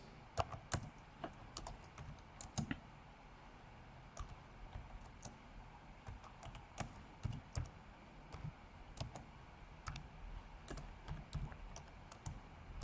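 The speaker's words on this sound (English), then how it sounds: "So I'm just typing and then we see how it goes." Quiet, irregular keyboard typing: bursts of light clicking keystrokes with brief pauses between them, close by and without any talking.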